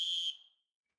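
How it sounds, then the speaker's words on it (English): A coach's whistle gives one short shrill blast of about a third of a second that then rings out quickly into silence, close and clear with no talk. "And that was my whistle."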